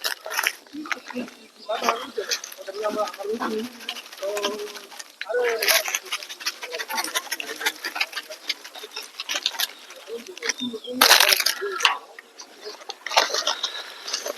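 Pigeons or doves cooing and pattering about while pecking at biscuits laid out for them, soft calls scattered throughout the scene over a steady outdoor background with occasional sharper bursts.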